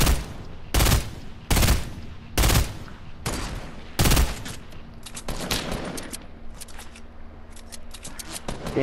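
Repeated gunfire in the Fortnite video game: about five loud, sharp shot bursts spaced roughly a second apart, followed by a denser rattle of quicker, fainter shots over steady background game noise.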